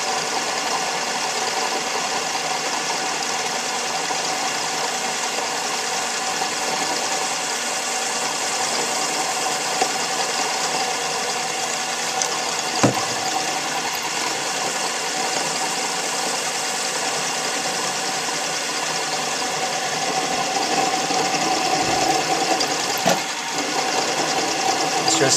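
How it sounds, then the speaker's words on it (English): A machine tool cuts into a metal workpiece with coolant flowing, giving a steady close mechanical hum and whir that runs throughout, with a few brief clicks and knocks. "I'm going to touch off here, and I'm going to start going in now."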